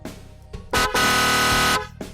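First tone of an 8-sound echo horn relay module: a brief horn blip, then a loud sustained horn blast of about a second, followed by softer short echoing bursts.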